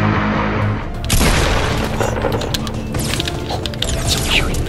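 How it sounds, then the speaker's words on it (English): Gunfire and explosive bangs during a Fortnite squad match, loud and dense, with sharp repeated shots and crashing impacts filling most of the stretch. "Someone shooting. Someone shooting."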